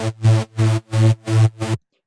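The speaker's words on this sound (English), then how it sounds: "it's a sub bass. I don't know what to call it, like a sub overlay or something, but it sounds like this." Sub bass overlay synth made in FL Studio for a happy hardcore remix, five deep sustained droning notes in quick succession with short gaps, loud and alone before cutting to silence.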